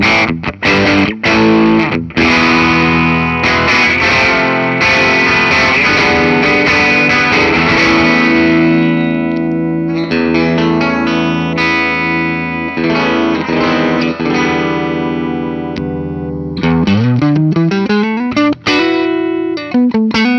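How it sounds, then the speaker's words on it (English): A 1971 Gibson Les Paul electric guitar played through heavy distortion, with loud sustained chords and riffs ringing continuously, a brief pause near the end before a rising run of notes. "And here it is with distortion."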